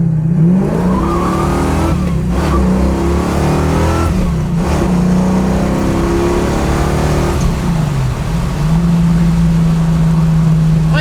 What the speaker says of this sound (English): Man, I love this motor. It sounds so great.